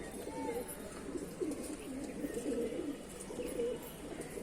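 Pigeons cooing softly in low, rolling calls, moderately close but faint, with a voice talking intermittently over them.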